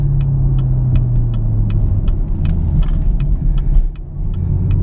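A car engine rumbles deep and muffled at close range through an exhaust with catalytic converters refitted, its note fairly subdued and steady, with a brief dip near the end.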